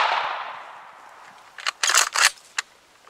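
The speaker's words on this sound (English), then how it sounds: "Third shot, full choke," A shotgun fires a single blast with a full choke at a 40-yard target. The sharp report fades into a long echoing tail, followed by a few short mechanical clicks.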